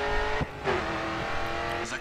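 A Ford Mustang engine revving in the GRID 2 racing game, a steady, buzzing engine note that rises and holds with short dips, heard up close and fairly quiet.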